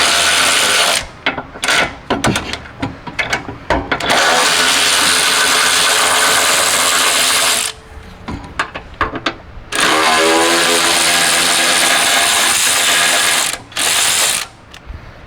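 Impact wrench or ratchet gun breaking loose the exhaust bolts on a Nissan 400Z, loud rapid hammering bursts in several runs with short pauses, close up in a garage.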